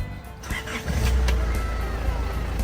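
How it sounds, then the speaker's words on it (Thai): A 2001 Isuzu pickup's 3.0 turbo engine turns over and settles into a loud, rough idle with a low rumble and some rattling, continuing steadily throughout. "ขอฟังเสียงเครื่องยนต์หน่อย"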